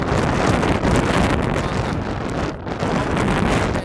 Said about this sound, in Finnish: Tuuli kova, niinkin kova, että vempoo ihmistä.